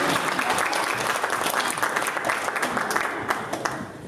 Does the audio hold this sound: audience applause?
yes